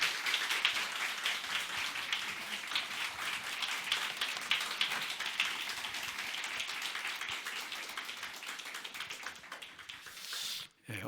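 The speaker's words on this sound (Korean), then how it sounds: "우리 다 같이 박수로 환영하겠습니다" A church congregation at a Korean revival meeting claps in welcome, dense sustained applause from many hands filling the room for about ten seconds before stopping abruptly.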